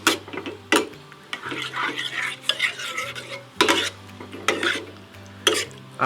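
Sour cream being stirred into venison stroganoff in a pan, with repeated scraping and mixing strokes of a utensil against the pan and a soft sizzle between them.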